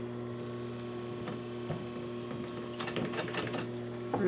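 A sewing machine runs a slipcover seam for a Parson's chair at a half-inch allowance, its steady motor hum joined near the end by a burst of rapid stitching clatter, close and alone.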